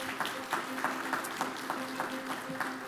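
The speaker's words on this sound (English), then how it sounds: "Please give them a round of applause." Audience applause for school principals at a district highlights event, a faint, steady wash of clapping with regular rhythmic pulses and a sustained tone underneath.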